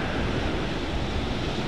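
Surf on the Indian Ocean shore in Tanzania makes a steady, dense wash of noise, close and constant with wind buffeting the microphone and no distinct individual wave breaks.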